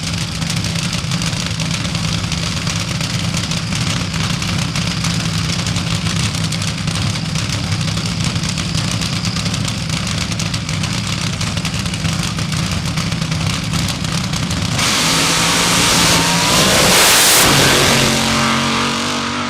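A fuel altered drag racing car at Cackle Fest 2001 idles with a loud, rough, steady rumble. Near the end it revs sharply into a harsh, blaring roar before the engine drops back, all close and very loud.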